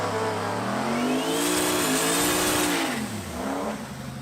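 A truck engine revving hard, its pitch rising then dipping and climbing again in a loud, sustained surge heard close up with no talk.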